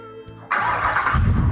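A GMC truck engine cranks briefly, then catches and roars to life, settling into a loud, rumbling run up close.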